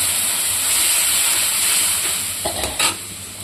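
A steady sizzle of onion and spice paste frying in a hot pan, followed by a few scraping stirs near the end.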